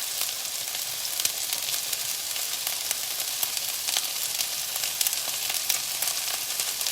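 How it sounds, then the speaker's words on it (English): Onions sizzling and frying in a pan for fajitas: a steady, loud, dense crackle and hiss that fills the whole stretch without pause. "you can smell these onions cooking up"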